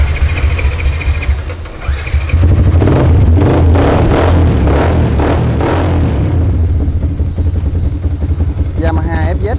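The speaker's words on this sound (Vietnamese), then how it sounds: "Yamaha FZ 150 đó các bạn." A Yamaha FZ 150 fuel-injected motorcycle engine starts and idles close by, then revs in several rising bursts before settling, all while someone talks over it at a used-motorcycle shop.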